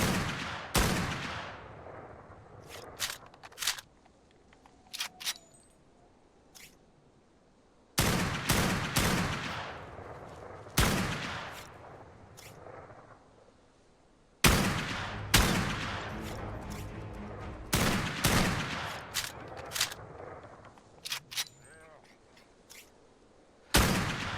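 Gunshots from the survival game Ark: Survival Ascended, set in the Scorched Earth desert map: sharp, loud, isolated cracks and short clustered volleys with decaying tails, spread irregularly across the stretch.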